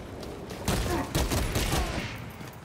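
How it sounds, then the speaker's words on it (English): Dense gunfire from Warhammer 40,000: Space Marine 2 rattles through a busy battle mix, with steady overlapping shots blended with rumbling game noise. "Who's shooting at me?"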